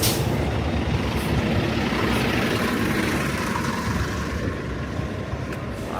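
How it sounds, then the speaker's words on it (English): City bus grinding past on the Williamsburg Bridge in New York, a steady loud rumbling drone of heavy engine and road noise lasting throughout, with a faint high whine late on. "I don't think I've ever seen a bus coming through here before."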